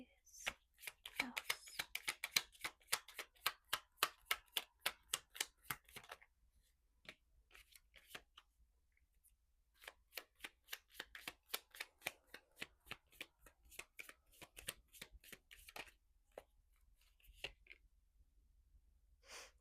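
Close, soft riffling of a deck of animal spirit oracle cards being shuffled in repeated bursts with short pauses between, faint and crisp, no talking.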